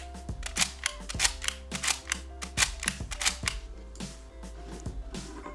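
A Frozen 2 toy hair braiding machine twisting a strand of doll hair, with a run of sharp plastic clicks and ratcheting snaps repeating at a quick, uneven rhythm close to the mic over a low steady motor hum.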